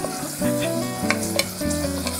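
Onion and tomato sauté and sizzle in a pan with steady frying hiss and a few scraping stirs of a utensil, close and continuous, no voices.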